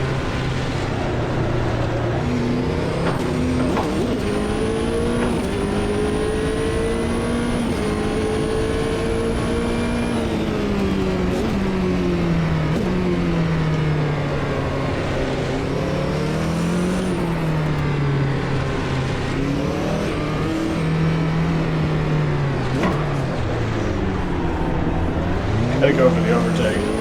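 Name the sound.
GT1 race car engine in Automobilista 2 video game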